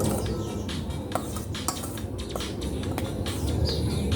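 Egg with salt and pepper whisked in a bowl, a quick run of light clinking utensil taps against the bowl, close and fairly soft against a steady background hiss.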